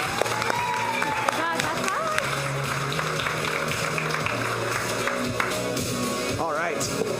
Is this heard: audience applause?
yes